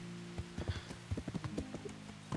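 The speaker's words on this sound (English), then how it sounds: "Now he's looking at the horse running through the street." Horse hooves clip-clopping through a city street in the video game Kingdom Come Deliverance, a quick irregular run of hoof strikes, faint and somewhat distant over a low hum.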